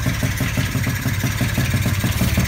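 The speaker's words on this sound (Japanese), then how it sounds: "ちょうどエンジンもね、止まりました。" A Yamaha Pop Gal two-stroke scooter engine idles with a steady, rapid low putter throughout, loud and close, with no voices over it.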